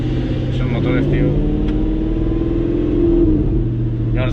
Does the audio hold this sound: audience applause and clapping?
no